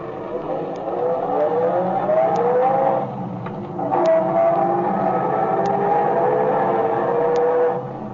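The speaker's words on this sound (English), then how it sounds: "This car don't run so bad." Engine of an old 1937-era car as a radio drama sound effect, a steady droning motor run with shifting whine and a brief dip midway, under faint background voices.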